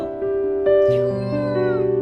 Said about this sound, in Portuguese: Quem é o gatinho laranjinha?